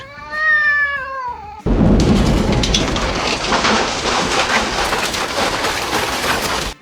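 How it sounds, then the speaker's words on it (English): An AI-generated sound effect: a cat meows a few times, then steady rain patters loudly on a roof, with occasional low rumbles underneath. "let's do a cat mewing and raindrops falling on the roof"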